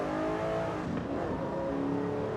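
A Mercedes SLK 500 engine in a racing video game holds a steady, loud drone for a couple of seconds, with a slight rise and fall in pitch and no talking over it.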